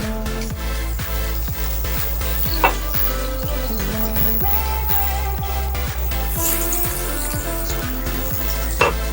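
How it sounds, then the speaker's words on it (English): Garlic sautés in hot oil used earlier for prawns, a loud, continuous sizzle broken by regular scraping stirs and an occasional clink of utensil on pan, with no talk. "I'm going to add garlic first in same oil because we need a flavor of prawn."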